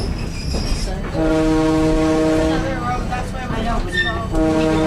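A South Simcoe Railway diesel excursion train rumbles past in Tottenham, Ontario with a long, loud horn blast, followed by a second horn sounding near the end over steady rail noise.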